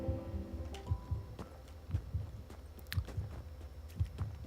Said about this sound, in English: I can still hear my heart pounding because I lost health